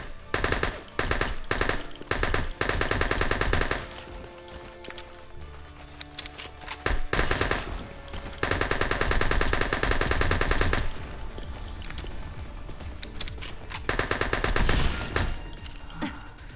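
Sustained automatic gunfire fired from the hip in the game Anomalith, dense rapid bursts with brief pauses between strings, loud and close throughout.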